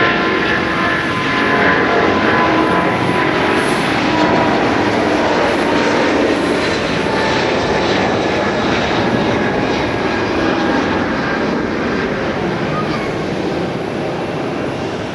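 A Korean Air airliner taxies at Haneda airport, its steady jet engine roar loud and continuous with a broadband rush that holds throughout, no voices over it.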